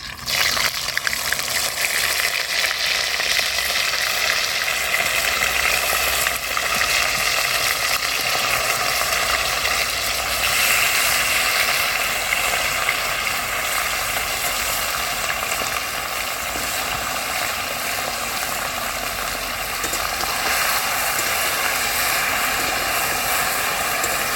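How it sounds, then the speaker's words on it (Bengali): Marinated chicken fries in a hot pan for Kolkata-style Bengali rezala, giving a steady, close sizzle and hiss that holds at an even level for the whole stretch, with no voices over it. "এবার দিয়ে দেবো চিকেনটা, যেটা আমি ম্যারিনেট করে রেখেছি, 1 ঘন্টা হয়ে গেছে। এবার চিকেনগুলো একটু ভেজে নেব।"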